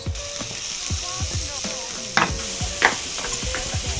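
Chicken and onions sizzle steadily in a dry pan with no added fat, a dense continuous frying hiss broken by repeated scraping stirs and a couple of sharper pops, close and fairly loud with no talk.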